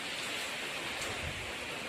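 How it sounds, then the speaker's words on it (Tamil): Steady rain falling outdoors during a rainy spell of several days, a continuous soft broadband hiss with no breaks, fairly faint and even throughout. "மழை பேஞ்சிட்டே தான் இருக்குது"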